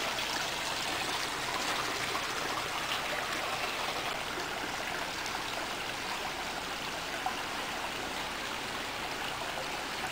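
Water flows steadily in a backyard water feature behind a house, giving a continuous, even rushing and trickling wash at close range with no breaks and no voices.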